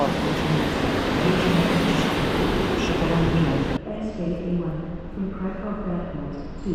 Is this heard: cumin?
no